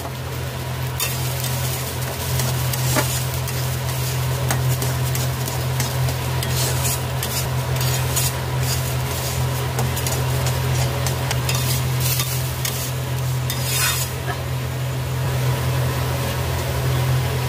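Home-grown mung dal fries in a tablespoon of mustard oil over a low to medium flame, giving a steady, loud sizzle under continuous scraping and stirring, with no talk.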